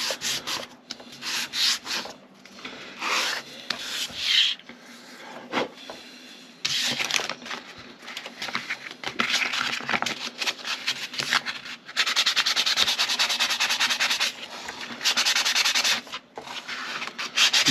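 A foam sanding pad rubs back and forth along a wooden mast for a model ship, a close, continuous scratchy abrasion in uneven strokes that swell and fade, with brief pauses between passes.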